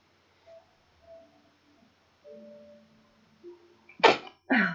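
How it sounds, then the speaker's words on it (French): A woman sneezes twice in quick succession, sharp and close, after a few seconds of faint tonal background sounds. "Pardon, j'éternue encore."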